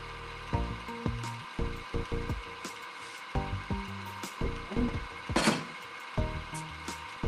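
Sawing to cut something off, heard as irregular rasping strokes in short bursts with gaps between them, fairly faint against a steady background hum, with no talking.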